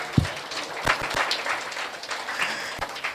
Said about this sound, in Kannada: ಜೋರಾಗಿ ಚಪ್ಪಾಳೆ ತಟ